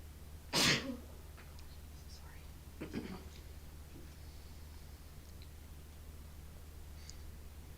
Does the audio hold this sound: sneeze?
yes